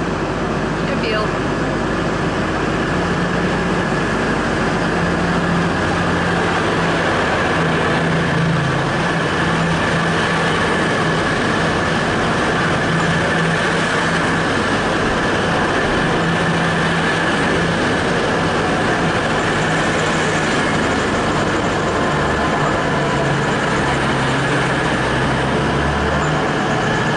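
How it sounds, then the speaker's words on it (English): Train 222002 prepares to leave London St Pancras for Sheffield, a continuous low engine rumble and steady hum filling the station, unchanging throughout, with faint background chatter. "222002 is about to depart for Sheffield."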